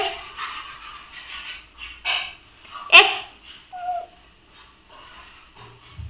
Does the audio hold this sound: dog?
yes